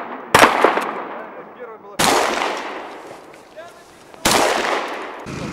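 Sport shooting at a training camp: three loud, sharp gunshots spaced about two seconds apart, each followed by a long decaying echo.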